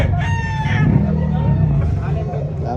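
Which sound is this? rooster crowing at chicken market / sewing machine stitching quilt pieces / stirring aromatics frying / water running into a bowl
rooster crowing at chicken market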